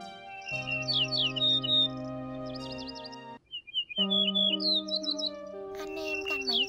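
A chim sẻ đồng vàng, a sparrow-type bird, gives song and flock calls: bright, clear chirps and warbled phrases in repeated bursts. They sit over steady sustained musical tones, with a brief near-silent gap midway.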